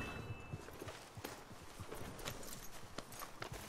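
Horse hooves clip-clop in a steady walking rhythm over a grainy, noisy background, close but fairly faint, with no voices.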